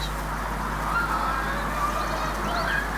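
Birds give loud, hoarse honking calls that sound almost like screaming. The goose-like cries come in a few short bursts over a steady low background hum.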